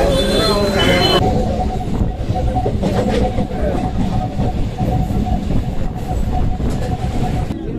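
A train at a railway platform makes a loud, continuous rumble of rolling wheels with a high squeal at the start. Faint voices may be mixed into the noise.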